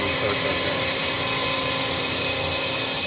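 A CNC lathe cutting a brass part makes a steady, loud, dense machining roar with high whine. It holds continuous for the full span, no pauses or voices.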